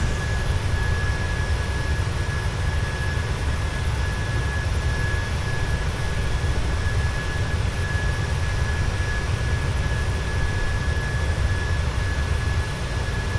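Steady jet engine roar from a TUI Boeing 737-800 in Microsoft Flight Simulator 2020, a constant loud broadband rumble with a faint high whine, unbroken across the whole stretch.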